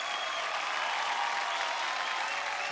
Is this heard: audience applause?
yes